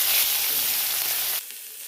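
Mourola fish fry in hot oil with a bright, close hiss that sizzles steadily, then drops to a softer crackle for the last half-second.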